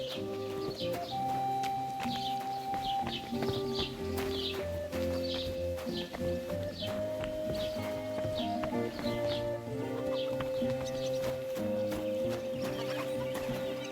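Horse sounds rise from a medieval village scene in Kingdom Come: Deliverance II, with hooves and animal calls set against a busy ambient bed of chickens clucking and steady background music, moderately quiet and with no talk.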